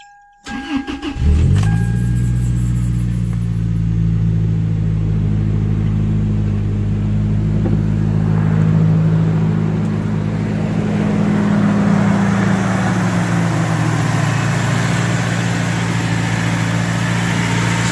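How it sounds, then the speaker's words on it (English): A 2002 Toyota Tacoma engine cranks briefly and fires up close and loud, then settles into a steady, deep idle rumble that holds evenly to the end. "You heard the belt squealing just a little bit."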